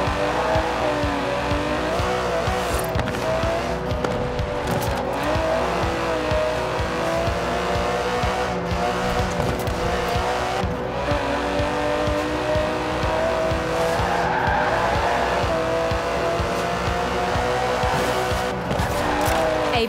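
An Aston Martin DB11 with a 5.2-litre twin-turbo V12 roars steadily in the racing game Forza Horizon 4, engine droning loud and continuous with occasional tire squeal and skidding under the rising and falling revs.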